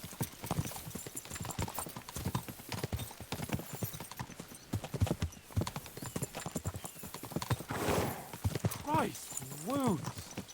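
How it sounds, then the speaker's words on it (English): Horse hooves pound in a steady galloping clip-clop in the video game Kingdom Come Deliverance 2, heard beneath voices that talk over most of the ride. "We should spur the horses on."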